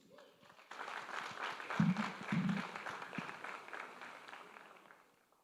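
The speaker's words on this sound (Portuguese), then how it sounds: "Vamos aplaudir ao Senhor Jesus?" A church congregation applauds warmly for several seconds, a dense patter of clapping that swells and then fades out.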